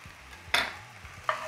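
Garlic goes into a pan of lightly golden frying onion, with two brief stirring scrapes and soft sizzles close by over a quiet background.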